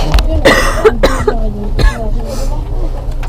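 Several harsh coughs burst out close by, a quick cluster followed by another later, with a throat clearing and some talk mixed in.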